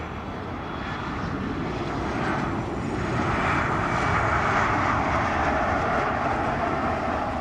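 An airliner on approach to a wet runway at Montego Bay, Jamaica, roars steadily with a broad jet-engine rumble that swells louder as it nears and lands, with no one talking.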